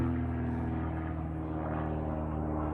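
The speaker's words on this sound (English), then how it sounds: "Just had a nice spy plane go over." A propeller-driven spy plane drones overhead near Morston Quay on the Norfolk coast, a steady low engine hum filling the whole short stretch at moderate distance, with no talk.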